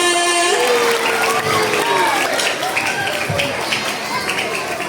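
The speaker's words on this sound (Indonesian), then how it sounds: "Beri tepuk tangannya." Children clap for a performance at an elementary school Isra' Mi'raj celebration, a dense, steady patter of many small hands filling the room while an adult voice speaks over it.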